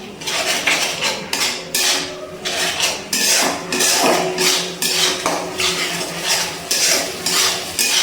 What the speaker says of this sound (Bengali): এবার খুব ভালো করে মশলাগুলো কষিয়ে নিচ্ছি।